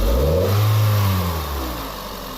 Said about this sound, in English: Go ahead and snap the throttle.